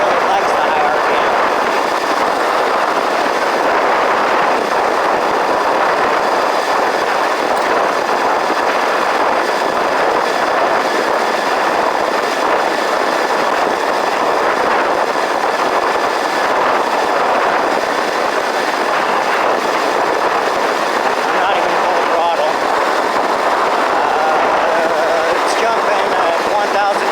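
CYC X1 PRO e-bike mid-drive motor with a BAC855 sensorless controller running at high RPM: a loud, steady, broadband whir and rattle that continues throughout with no pauses.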